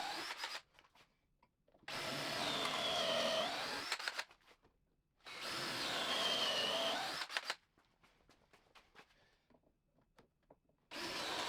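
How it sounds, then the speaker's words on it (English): A drill drives a 3/8 inch pocket hole bit into a 2x4 bench board in two loud, sustained whirring bursts of about two seconds each, separated by quieter handling clatter and knocks. "I use my pocket hole drill bit, which is 3/8 of an inch, to do this."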